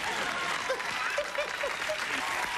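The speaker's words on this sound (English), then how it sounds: "Give her a big round of applause." A television talk-show studio audience applauds steadily, a loud dense wash of clapping filling the whole stretch, with a few voices and whoops poking through.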